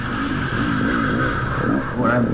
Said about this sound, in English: I still feel like I'm not revving this bike enough.